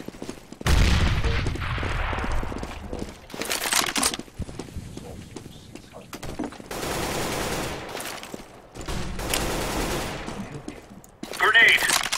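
Gunfire in Counter-Strike: Global Offensive, with loud bursts of shots in several separated volleys over about twelve seconds and a grenade blast among them, while background sounds continue between the volleys.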